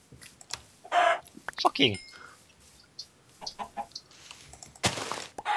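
Blocky chickens in the Minecraft video game cluck in short scattered bursts amid game effects, while players talk and exclaim loudly.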